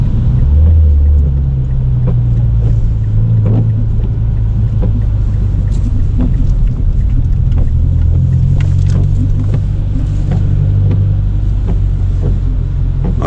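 A ten-year-old Mazdaspeed3 on a test drive, heard from inside as a loud, steady engine and road rumble with shifting engine tones and scattered small rattles.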